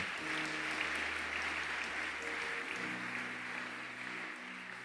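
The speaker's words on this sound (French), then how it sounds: "Nous acclamons le Seigneur pour cela." A church congregation applauds steadily throughout, a dense wash of many hands clapping in a large room, while a low sustained organ or keyboard chord plays beneath and shifts partway through.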